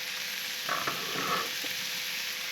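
Bacon and sausage frying in a pan for fried rice, a steady hiss of sizzling fat with a few brief stirring scrapes in the middle, fairly close.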